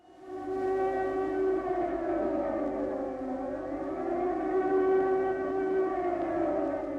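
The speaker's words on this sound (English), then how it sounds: "The air raid sirens started sounding in 1940." A civil defense air raid siren wails in one long, drawn-out, steady tone with a slight rise and fall, loud and sustained with no talking.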